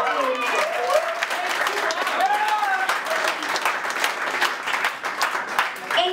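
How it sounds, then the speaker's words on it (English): Applause and cheering from an audience at a swing jitterbug dance contest, steady dense clapping with scattered yells and whoops across the whole stretch. "make sure you yell and clap and get really excited"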